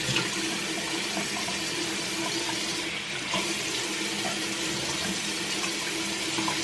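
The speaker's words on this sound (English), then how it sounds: "And then I'm just going to wash my face" Water runs steadily from a bathroom tap into a sink for face washing, a continuous close hiss and splash that stays even throughout with no voices.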